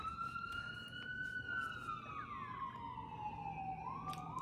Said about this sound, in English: oh my god, ambulance.